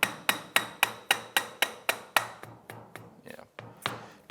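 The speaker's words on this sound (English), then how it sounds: "Get a soft blow hammer and we'll go ahead and seat that down" Soft-blow hammer strikes seating a steering stem bearing on a Honda CRF450R: about a dozen sharp, evenly spaced blows close up, the last few softer and more irregular, with no talk.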